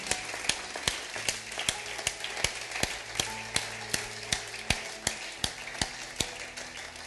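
Church congregation claps to acclaim Jesus in steady, rhythmic handclaps, evenly spaced and fairly loud over a soft musical hum, with no talking.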